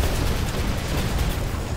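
Weapon fire from the robot Fafnir in the PC game War Robots, a dense continuous low rumbling barrage with steady rapid impacts, loud and unbroken with no talking.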